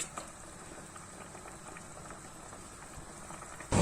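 Onion soup with cream boiling uncovered in a pot, a steady close bubbling and gentle patter that runs evenly throughout with no voices.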